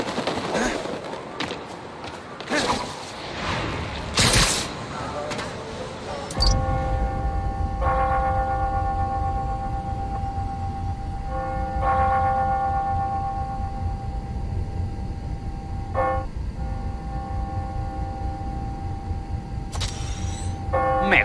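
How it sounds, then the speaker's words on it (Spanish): Church bells ring the hour in the video game Spider-Man: Miles Morales, in the Greenwich area, with sustained tolling strikes recurring over a busy urban backdrop after several sharp bursts at the start. "Toca las horas. Cuando escucho esas campanas,"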